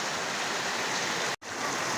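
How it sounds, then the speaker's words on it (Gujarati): Heavy monsoon downpour and rushing floodwater roar steadily and loudly, a dense continuous wash of water broken by one brief cut. "ત્યાં જોઈ લઈએ તમે વરસાદ"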